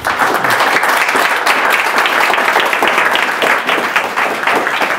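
Warm audience applause welcoming poet Adam Zagajewski to a reading held in a pottery studio, dense, loud, even clapping sustained throughout without a break.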